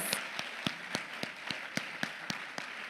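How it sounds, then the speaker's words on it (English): Sparse, evenly spaced claps ring out one at a time at a quiet level after graduation ceremony performances, a thin round of applause rather than a full crowd. "give all of our graduation performances thus far a warm round of applause"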